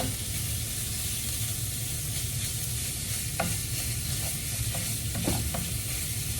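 Chorizo fries in a pan with a dense, constant sizzle and hiss, broken by a few scattered spatula scrapes and taps as the meat is broken up.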